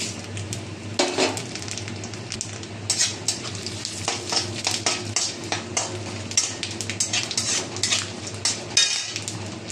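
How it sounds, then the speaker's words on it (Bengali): Whole spices crackle as they hit hot oil and ghee for a tempering, a steady sizzle broken by repeated clinks and scrapes of a metal spoon against the pan, close and fairly loud. "তেল আর ঘি ভালো মতন গরম হয়ে গেছে এবার ফোড়নটা অ্যাড করলাম"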